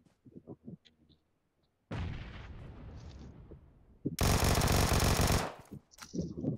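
Gunfire in a mobile battle-royale game (PUBG Mobile or Free Fire), with scattered small pops, then a loud sustained burst and a dense, very loud volley of rapid automatic shots, close and overwhelming.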